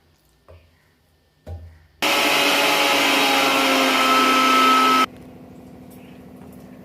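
A mixer grinder blends butter paneer masala paste in its jar, a few clunks as the jar is set in place, then a loud steady whirring motor that runs for about three seconds and cuts off.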